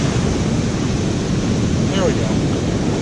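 An ocean wave washes up on a sandy beach, a steady, loud rush of surf and hiss that carries on without a break. Wind buffets the microphone.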